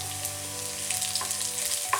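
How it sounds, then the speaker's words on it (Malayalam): Shallots and dried red chillies fry in hot oil for a mustard-seed tempering for sambar, a steady close sizzle with small crackles and pops and no talking. "അപ്പം കടുക് താളിച്ച് കൊടുത്തതിന് ശേഷം നന്നായിട്ട് ഒന്നുകൂടി ഒന്ന് ഇളക്കിയെടുക്കണം"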